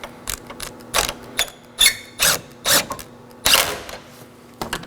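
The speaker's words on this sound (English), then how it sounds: "I'm going to start off my first nut" A hand ratchet tightens a battery hold-down nut on a 2013-2019 Nissan Sentra, giving close, crisp bursts of clicking in short irregular strokes with brief pauses between them, with no talk.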